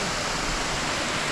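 Stainforth waterfall, swollen after rain, pours as a broad steady roar of rushing water with no voices, loud and continuous.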